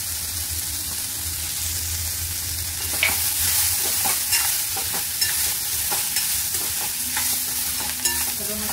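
Cabbage and capsicum sizzle in a hot pan while being stirred, a steady frying hiss broken by repeated scraping and clattering strokes of a spoon, close up and without talking.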